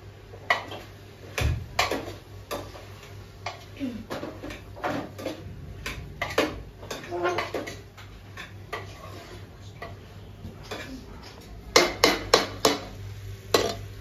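Vegetables for pulav being stirred in a metal pot with a spoon, giving repeated sharp clinks and scrapes against the pot at an uneven pace, close by, with a low hum running underneath.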